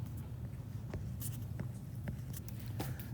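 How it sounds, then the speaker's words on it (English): Pen or marker scratching out an angle on a worksheet, a steady run of short strokes and taps over a low hum, close and fairly quiet, with no talking. "So I'm going to write the angle in."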